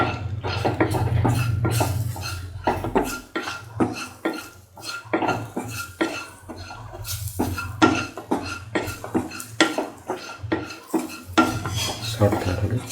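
Breadfruit stew being sauteed and stirred in a pan, with a metal utensil scraping and knocking against the pan in an irregular rhythm of repeated clinks over a low, steady background hum.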